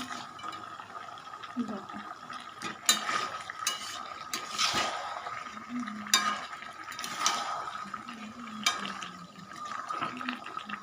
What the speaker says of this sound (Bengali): এবার আমি আরও একটু নাড়িয়ে দিচ্ছি।